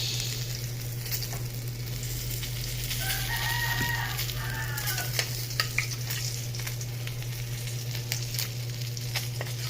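Tulingan (bullet tuna) fries in oil with a steady, dense sizzle throughout, joined by some faint clatter. A rooster crows briefly in the background midway.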